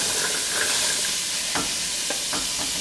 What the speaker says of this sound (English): we're going to start by adding the onion, the carrot, and the celery to the pan